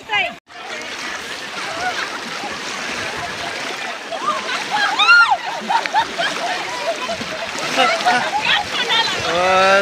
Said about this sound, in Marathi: सगळे खेळत आहेत पाण्यात.